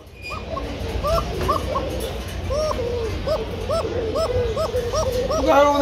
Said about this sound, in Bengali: কবুতর আমার দেখে ডাকাডাকি আর বন্ধ করে, আর এটা কিন্তু ডাকাডাকি আর চালু করে।